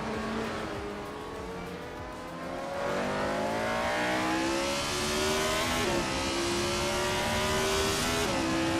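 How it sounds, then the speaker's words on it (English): Engines of 1960s Formula One cars such as the 1962 Lotus 25 in a racing video game snarl continuously on a tight street circuit. The loud, steady whine rises and falls through gear changes, with no talk. "The F1 1960 cars are evenly matched on this street circuit"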